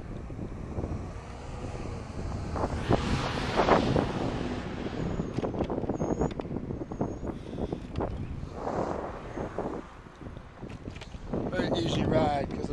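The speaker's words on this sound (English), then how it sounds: "You can hear the wind probably." Wind buffets the microphone while cycling into a warm headwind on a spring ride, a fluctuating rushing roar with gusty swells that stays loud and close, mixed with bits of background noise.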